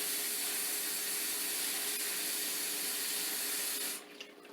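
Water runs steadily from a kitchen tap for several seconds while flour is being washed during cooking, a close, even hiss that stops near the end.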